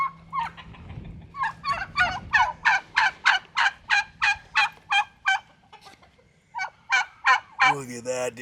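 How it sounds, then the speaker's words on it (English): Wild turkey gobblers call from a Missouri state park woodland in a long, rhythmic series of gobbling bursts, moderately close and clear, followed by a faint pause and a few more calls. "there are some big old gobblers in there."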